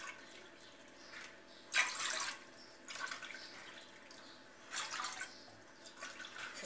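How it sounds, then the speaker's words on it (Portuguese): Water is poured into a cooking pot in a kitchen, with faint splashing bursts that come and go a few times over a quiet background. "nós vamos colocar 4 xícaras de água aqui na panela"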